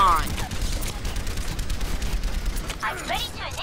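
An enemy turret fires in the video game Overwatch, a dense, continuous rattle of shots under game effects and a speaking voice, with sweeping synthetic tones near the end.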